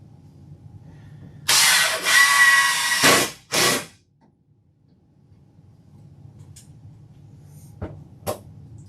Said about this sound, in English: I'm sure you guys use, drills and whatnot all the time.